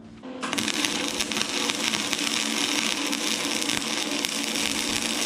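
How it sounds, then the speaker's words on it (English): A welder tack-welds a headlight bracket on a Coleman CT200U mini bike, making a steady, close crackling hiss that starts abruptly and runs without pause. "take the welder and tack this right here"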